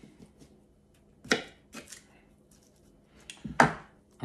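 A knife chopping onion on a cutting board, a few separate close cuts with quiet gaps between them, one of them a quick double stroke.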